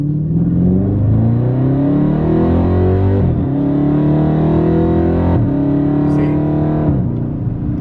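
A loud Dodge Charger Hellcat exhaust with catless midpipes in track mode drones and rumbles continuously while accelerating, its pitch climbing and then dipping sharply at each of several gear shifts.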